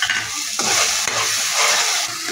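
Tomato puree going into onion paste frying in oil, giving a loud, continuous sizzle with stirring scrapes throughout and no talking.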